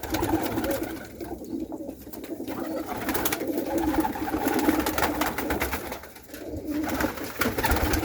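Iranian and Pakistani high-flying pigeons coo softly in a low, repeating murmur, with faint rustling and background noise throughout.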